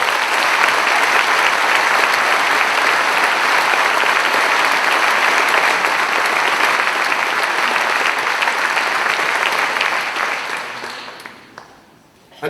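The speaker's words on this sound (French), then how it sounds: "Oui, vous pouvez nous applaudir." Sustained, loud applause from a large audience at a mayor's New Year's greetings ceremony in Guérande, steady for about ten seconds before fading out near the end.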